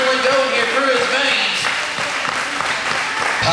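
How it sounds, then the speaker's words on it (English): Wrestling crowd at an FCW event applauding in a loud, continuous wash of clapping that fills the arena, with cheering voices mixed in throughout. "Bring out the clapping, everybody"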